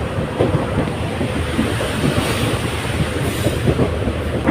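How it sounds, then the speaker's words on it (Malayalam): Steady rumble of a moving passenger train bound for Madurai from Kollam via Sengottai, heard from inside a carriage, wheels clacking rhythmically over the rails beneath a constant roar. "മധുരയ്ക്ക് പോകുന്ന ട്രെയിനിലാണ് ഇപ്പോൾ നമ്മൾ പോയിക്കൊണ്ടിരിക്കുന്നത്"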